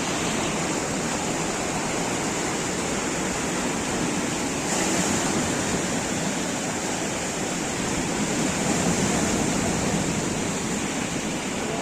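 Sea water rushes and churns steadily around people standing in it on a rocky Konkan shore while fishing, a continuous close wash of surf with no voices.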